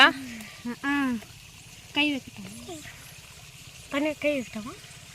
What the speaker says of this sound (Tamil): மேலேருந்து இந்த தொட்டியில் எவ்வளோ அழகாக வருது பாரு